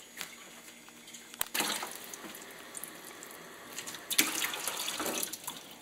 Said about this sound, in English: Now what I'll do is I'll just put a little water in the bottom to ensure that it's not going to dry out.